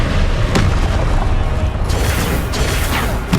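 A Confringo blasting curse exploding in Hogwarts Legacy during a duel, a heavy, loud boom with a rumbling low-end wash and a few crackling impacts layered over it.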